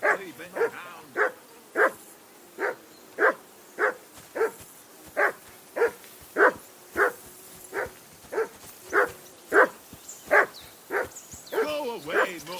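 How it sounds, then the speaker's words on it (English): A dog in the video game Kingdom Come: Deliverance II barks steadily, about twenty loud, evenly spaced barks close by with a few yips toward the end. "Jesus, Henry, that barking's driving me nuts."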